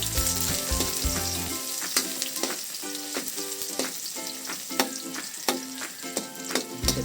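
Garlic and onion sauté in a pan for Filipino squid adobo, a steady close sizzle with repeated sharp scraping stirs and clinks, with background music and no voice.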